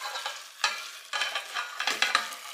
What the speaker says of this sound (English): I'm going to grab it, and I'm going to pour it over the rhubarb